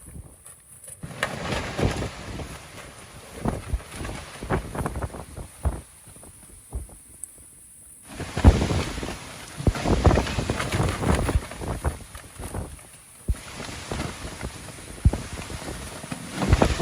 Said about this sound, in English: heavy gusts of wind, probably 30-40 miles an hour at least